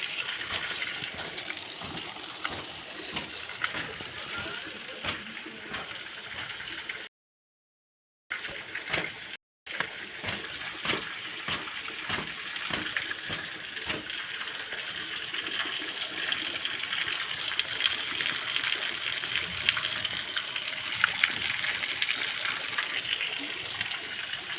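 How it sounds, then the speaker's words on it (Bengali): Rainwater pours off a roof on every side, a dense, steady rushing gush that holds close and loud for the whole stretch. There is one brief gap near the start, and the flow swells slightly later on. "চারদিকে ছাদের জল পড়ছে"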